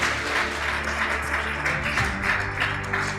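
An audience at a live motivational talk for CA Inter students claps together in a dense, continuous burst of applause that stays fairly even throughout.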